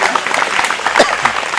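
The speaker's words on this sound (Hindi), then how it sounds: "जोरदार तालियां" Loud applause from an audience at an Arya Samaj bhajan and sermon gathering, a dense burst of clapping with a few voices mixed in underneath.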